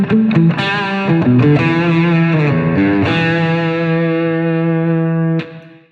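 An electric guitar through a JBL Bandbox Trio's Soulful Verb preset plays a short phrase of notes and chords drenched in lush reverb, ending on a sustained chord that rings out and fades.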